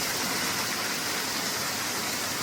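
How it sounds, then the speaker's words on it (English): Creek water flowing steadily at a trail creek crossing, a continuous broadband rush and gurgle heard close by, with no voices. "This is my last creek crossing."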